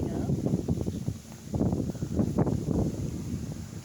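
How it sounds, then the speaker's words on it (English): Wind buffets a microphone outdoors beside a garden planter of 4 o'clocks, elephant ears and sunflowers, a steady low roar with gusty surges throughout. "Sorry it's so windy."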